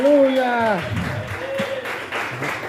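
A church congregation breaks into applause, scattered clapping rising under a loud speaking voice that dominates the start.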